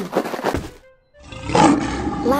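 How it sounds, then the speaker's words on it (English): A lion roars in a kids' animal video game, loud and near, with a synthetic tone in a short pause before a second sustained roar. "Lion."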